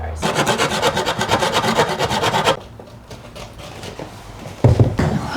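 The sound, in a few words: sanding down a wooden baseboard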